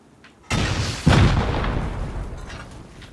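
Explosives detonating in a video game base, a sharp blast near half a second followed by a second heavy boom that rolls into a long, loud rumbling decay with no talking.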